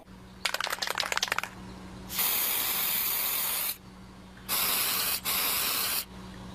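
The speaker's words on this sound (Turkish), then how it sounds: "Akçalı sprey boya. Her şeyi boya." Aerosol spray paint can hissing in several bursts: a short rattling spritz, then a long steady spray, a pause, and two more sustained sprays close to the mic, with no talking.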